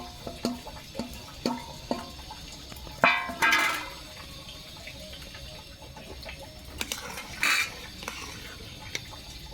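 Semolina is stirred in a pot while making homemade modak, with a spoon scraping and clinking against the metal in irregular bursts, some louder knocks, and soft background noise.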